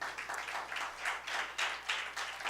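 A church congregation applauds in a steady wash of clapping, about a dozen rhythmic surges pulsing through the room, moderately distant and soft, with no talk over it.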